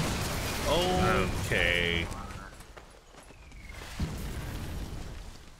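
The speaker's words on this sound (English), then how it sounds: "Mortar fire." Mortar fire explodes in Sniper Elite III, with dull booming thuds and a low rumbling backdrop under a voice that speaks briefly early on, and one sharper blast standing out near the end.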